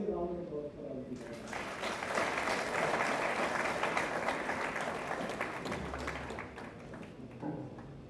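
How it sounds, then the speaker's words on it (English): Sustained applause from a crowd, dense clapping swelling and then thinning out, with a voice faintly audible underneath near the start and end. "a massive round of applause for all of you"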